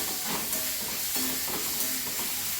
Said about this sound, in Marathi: आता हा कांदा एक गुलाबीसर होईपर्यंत परतायचा, जास्त नाही.